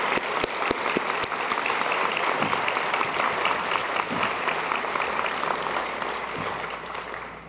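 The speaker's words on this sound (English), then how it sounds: "Please join me in applauding these great North Carolinians" An audience gives sustained applause for North Carolina Award winners at an awards ceremony, dense and steady clapping that holds for several seconds and slowly fades toward the end.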